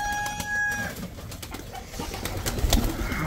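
Pigeons in a cage cooing softly nearby, a few low calls over light background noise alongside brief higher bird sounds.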